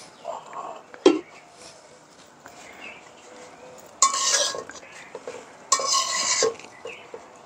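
Cooked greens are served from a pot with a spoon, bringing soft stirring scrapes and two sharp metallic clinks of utensil against the pot rim, close by, with quiet pauses between.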